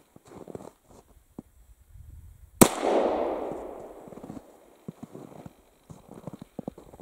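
A single sharp gunshot from an early Smith & Wesson tip-up revolver firing a .32 short cartridge, loud and close, with a decaying outdoor echo; quiet handling sounds before and after.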